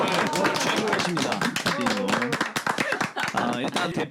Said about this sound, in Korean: 더 크게 박수